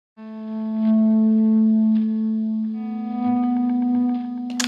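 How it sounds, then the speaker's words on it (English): Electric guitar on the neck pickup gives a mellow, melancholy tone, one rich sustained note ringing with chorus-like effects and echo, loud and alone, with a bright scrape at the end. "If you want a more mellow, more melancholy kind of sound, then stay with the neck pickup."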